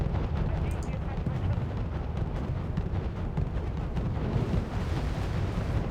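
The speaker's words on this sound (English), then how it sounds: "Alright, fire everything at the Luda." Naval gunfire and explosions from the Wargame: Red Dragon video game, a dense, continuous rumble of booms and blasts at steady loudness throughout.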